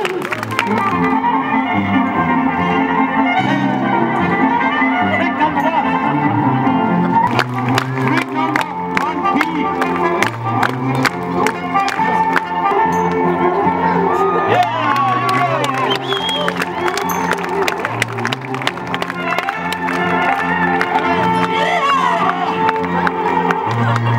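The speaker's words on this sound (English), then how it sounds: "Yes, applause." A street-performance crowd at a busking festival in Wrocław cheers and applauds loudly and continuously, with whoops, shouts and music-like tones running throughout.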